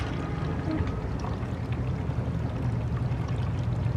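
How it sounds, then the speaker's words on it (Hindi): Water pours steadily into a container being filled for a waste decomposer bacteria culture, a continuous dense splashing and gurgling rush that stays loud and even throughout with no voices. "और ये देखिए ये पानी भर रहा है इसमें।"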